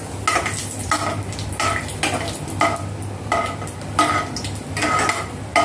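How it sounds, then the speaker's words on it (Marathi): Peanuts fry in a pan in a home kitchen, bursts of sizzling with repeated scraping and clinking of a spatula against the metal, close and rhythmic, without talk. "आणि इकडे मम्मीने शेंगदाणे टाकले"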